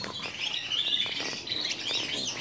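Gloster canaries chirp and twitter in a busy flurry of bright, overlapping high notes, moderately close and continuous throughout, with no voices.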